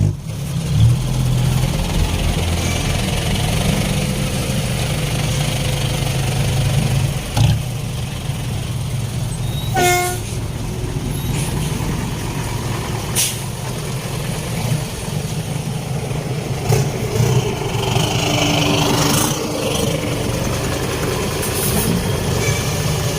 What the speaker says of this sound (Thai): ฟังเสียงท่อนะครับเสียแบงค์ เสียงโบหวานครับ